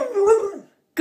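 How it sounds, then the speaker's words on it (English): A dog gives a drawn-out, talking-like vocal followed after a short silence by a sharp bark, both loud and close. "You're barking."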